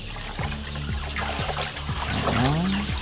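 ND La Sota vaccine mixture being stirred in water in a container, giving soft, steady trickling and sloshing with light splashes. A faint voice is audible beneath it.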